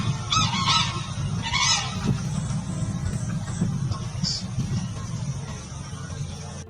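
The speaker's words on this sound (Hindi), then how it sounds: "दुनिया का सबसे बड़ा उड़ने वाला पक्षी है सारस।" Sarus cranes in the wild in Gondia, Maharashtra, give loud, repeated honking, trumpeting calls at fairly close range over steady outdoor background noise.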